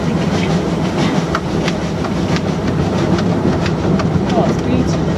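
A train on the Achensee railway rolls along with a loud, steady rumble and rhythmic clickety-clack of the wheels heard up close.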